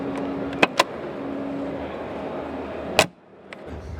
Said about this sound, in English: listen to the precision of the way the doors close and the feel of the handles